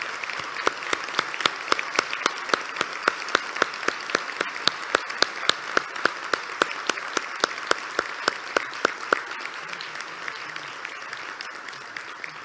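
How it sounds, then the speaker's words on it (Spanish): Sustained audience applause at a public event, a dense wash of many hands clapping steadily for about twelve seconds with sharp individual claps standing out, heard alone without speech. "un fuerte aplauso, por favor"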